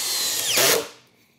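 A Hercules hammer drill from Harbor Freight whines briefly at close range while driving a screw, rising in pitch before cutting off and fading.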